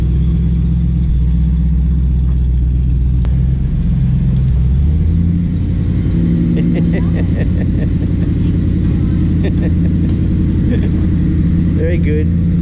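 A 1978 Plymouth Volare kit car engine rumbles steadily close by as it is driven in, its low drone shifting in pitch partway through, while people talk over it.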